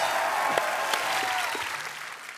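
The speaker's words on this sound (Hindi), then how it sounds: "और एक बार जोरदार तालियां रणबीर कपूर" Studio audience applause on an Indian TV comedy talk show, a steady wash of many hands clapping that runs the whole moment and tapers slightly toward the end, with no talk over it.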